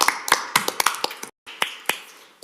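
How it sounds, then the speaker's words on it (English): A small group at a Metro Council meeting claps for two speakers: sparse, distinct handclaps that come close and fairly loud, with a brief gap midway and then a few scattered claps. "A round of applause for both of them."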